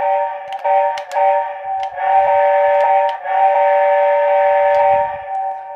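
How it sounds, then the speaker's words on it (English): A Lionel LionChief Hogwarts Express toy train steam whistle blows one continuous, held tone with a slight waver. It is loud and close, with faint clicks underneath. "this one actually goes for how long you hold it"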